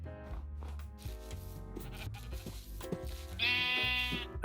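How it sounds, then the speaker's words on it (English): Sheep in a video game bleat several times in a row, close and clear, the calls overlapping with a brief scuffing rub between them. "I finally ran into some sheep and pigs"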